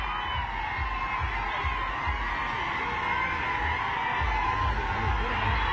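A dense crowd at an outdoor political rally for Ajit Pawar roars and whoops continuously, a loud sustained wash of cheering voices with rhythmic low thumps beneath.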